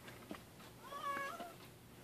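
A young grey tabby kitten about three months old gives a short, fairly faint meow indoors, a single soft call in an otherwise quiet room.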